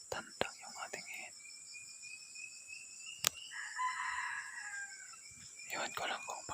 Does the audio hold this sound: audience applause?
no